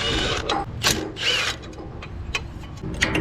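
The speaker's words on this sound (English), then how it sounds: "stick a wrench on that crank pulley and try to break this engine free" A wrench works on the crank pulley of a tractor engine, trying to break the seized engine free. Metallic ratcheting clicks and scraping clanks come in irregular bursts against a steady low background hum.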